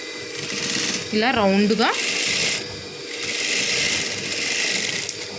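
A sewing machine runs steadily, stitching a second line of stitches along the seam of a nighty, with a voice speaking briefly over the whirring motor partway through.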